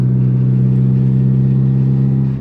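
A budget replica Mitsubishi Lancer Evo's engine drones steadily while driving, a loud, even hum with a strong low tone held throughout and no talk.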